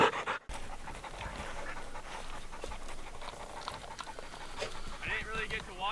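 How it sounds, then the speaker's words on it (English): A hunting dog pants hard and fast in close, steady rhythmic breaths during an outdoor bird hunt, continuing without a break. "Oh, what a dog."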